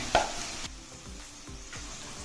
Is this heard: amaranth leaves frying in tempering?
yes